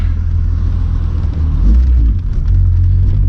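A VR6 car engine hums deep and steady from inside the cabin, with a slight rise in revs midway before settling again.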